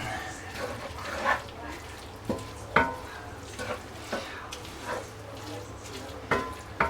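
A Big Mac casserole mixture is being stirred in a bowl, giving a few scattered scraping and clinking strokes spaced irregularly over a low steady background hum, close by and fairly quiet.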